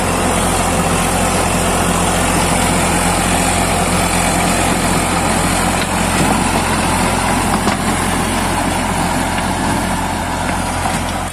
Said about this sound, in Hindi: बेहतरीन चल रहा रोटावेटर भी एकदम।